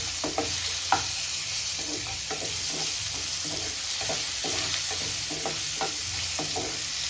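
Tomatoes fry and sizzle steadily in a pan, with repeated scraping stirs from a spatula scattered throughout, close and moderately loud, with no talking.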